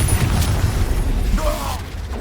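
A Confringo blasting spell in Hogwarts Legacy erupts in a deep booming explosion with low rumbling and crackling debris during a busy duel, close and loud, followed by a brief high whistling trail.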